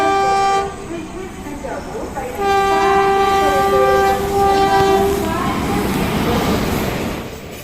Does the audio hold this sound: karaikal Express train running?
yes